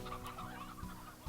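Chickens in the video game Slime Rancher clucking, several short, soft clucks in a quick, uneven series, fairly faint with no one talking.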